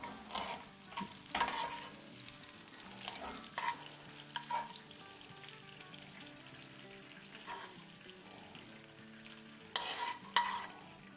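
Mustard seeds, curry leaves and green chillies crackle and sizzle in hot oil, with intermittent stirring scrapes and small pops; quiet and close, no talking.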